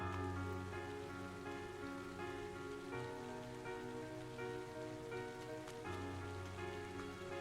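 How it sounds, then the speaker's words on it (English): Steady rain falls in a video game scene from Trails of Cold Steel, a constant even hiss of drops on surfaces with a faint tonal music layer underneath, with no talking. "With summer well underway, a rainy spell seemed to hang over Trista."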